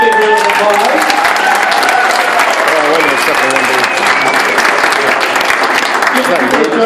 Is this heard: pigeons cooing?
no